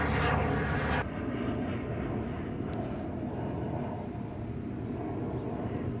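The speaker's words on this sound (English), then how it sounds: "Hang on, there's a plane." An airplane passes overhead outdoors near an inflatable raft, a broad, steady rumbling drone that stays fairly loud across the clip with no speech.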